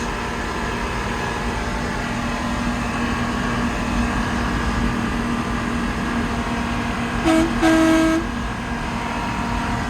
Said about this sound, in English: you gotta blow the air horn if you're a truck driver